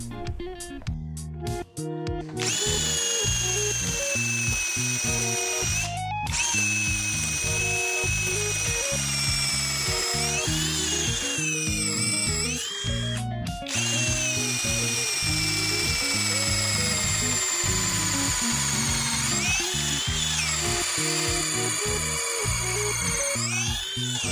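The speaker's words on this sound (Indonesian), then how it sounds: "Berikutnya saya menggunakan mata bor kayu 10 mm." A Kenjiro 20V brushless cordless drill boring wood with a 10mm bit whines steadily at high speed for a long stretch, pitch dipping briefly under load a few times, loud and close.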